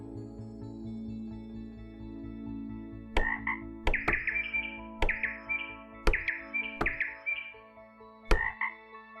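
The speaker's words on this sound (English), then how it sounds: "Bird and a frog." In a puzzle video game, a frog croaks in a rhythmic low pulse, then sharp bird chirps ring out again and again over the steady croaking.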